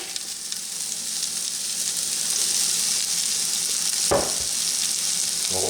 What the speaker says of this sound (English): Now I'm going to saute the carrots, the celery, and the onions in here just for a few minutes to kind of soften them up a little bit.